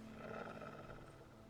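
A wolf in the video game Enshrouded growls low and rumbling near a wolf den, a short, faint, steady snarl with no speech.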